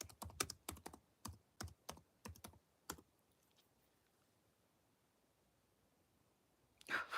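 Typing on a computer keyboard: about ten distinct, crisp key clicks in an uneven rhythm, then a long quiet pause before one louder clack near the end.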